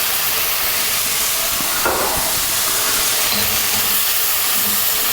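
Soy sauce poured into pork and vegetable fried rice in a hot pan, giving a steady close sizzle and steam hiss with a brief louder burst as the liquid hits, no talking.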